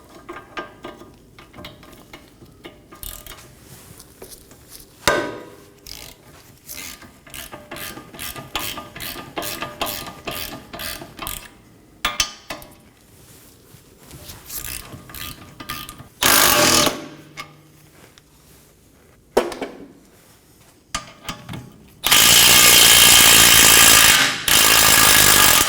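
Wrenching and ratcheting on two 19mm bolts at the rear trailing arm knuckle of a 2018-2024 Toyota Camry, with metallic clicks and clanks, irregular tool bursts and a loud sustained burst near the end, close and without talk.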